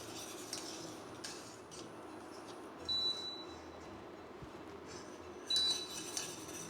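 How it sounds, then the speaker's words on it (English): A utensil stirs cooking sugar in a pot, giving faint scraping and light clinks against the metal, with a couple of brighter knocks among a quiet background. "Just give it a good stir just to make sure you're getting the correct reading."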